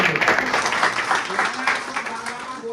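Applause at a monthly business club meeting, dense clapping from a gathered audience throughout, with people talking over it.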